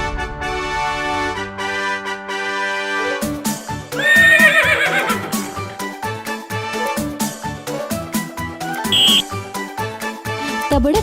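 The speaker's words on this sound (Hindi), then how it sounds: "तबड़क दौड़ने वाला घोड़ा हूँ मैं।" A cartoon horse in a Hindi children's rhyme whinnies once, loud and shaky, partway through bright, busy music that plays throughout.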